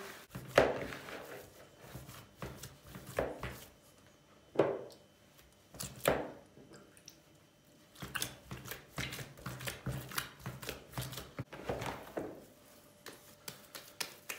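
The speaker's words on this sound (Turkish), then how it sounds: "Köftemizi iyice yoğurduk" Minced lamb for potato köfte kneaded by hand, soft irregular squelching slaps and thuds of meat pressed against a bowl, quiet and close, with short pauses between bursts.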